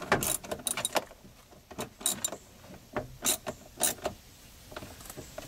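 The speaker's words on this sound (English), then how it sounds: "I have to kind of hold the socket to get the ratcheting action" Ratchet wrench and socket tightening a seatbelt anchor bolt in a Toyota Tundra, giving a series of sharp, irregular clicking bursts close up, with short pauses between the strokes.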